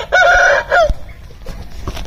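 A black Aseel rooster crows loudly and close by in a single drawn-out call, then falls quiet, leaving soft background noise.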